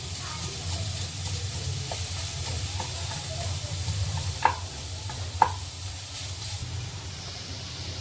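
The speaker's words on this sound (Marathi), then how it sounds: "खवलेलं खोबरं आणि गूळ, ते व्यवस्थित मिक्स करून घेणार आहोत।" Grated coconut and jaggery being mixed in a pan for modak filling, with scraping stir strokes over a soft steady hiss and a couple of sharper clinks near the middle.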